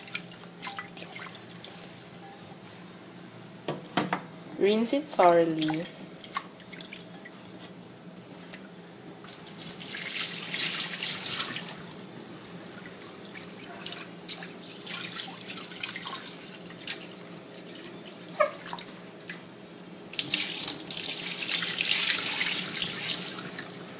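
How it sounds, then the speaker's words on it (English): Tap water runs into a sink while pork is rinsed, with bursts of gushing flow, dripping, and wet squishing and handling sounds between them. "So rinse it thoroughly."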